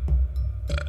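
A woman burping, two short throaty belches about half a second apart, close and fairly loud, with no talking.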